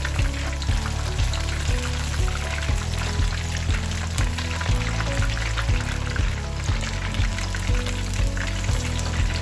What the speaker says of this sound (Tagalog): Kahit deep fry siya, I try to turn it around para evenly cook yung chicken natin